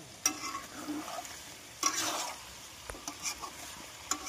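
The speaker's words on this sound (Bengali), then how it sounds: "আদা রসুন দিয়ে ভালোভাবে নেড়ে চেড়ে" Ginger garlic paste stir-fried with shahi jeera in a kadai, a low sizzle punctuated by several spatula scrapes and taps against the pan, close and fairly quiet, no voices.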